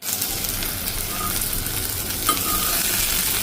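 Chapla fish frying in a pan, a steady, dense sizzle and crackle of hot oil running continuously at moderate loudness, with one brief utensil tap partway through.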